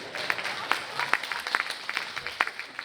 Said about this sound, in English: see how many of you are clapping right now?